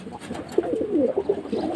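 A hybrid Giribaz high-flying pigeon coos close by, soft throaty warbling rising and falling in a continuous run of low coos.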